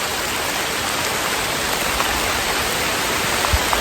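Steady heavy thunderstorm rain in a forest hissing continuously, close and loud, with occasional drops pattering on a nearby surface.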